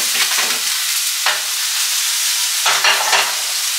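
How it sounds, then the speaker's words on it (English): A steak sears in a pan on high heat, sizzling loudly and continuously up close, with a few louder hissing surges as it is moved. "So this steak I'm cooking on high"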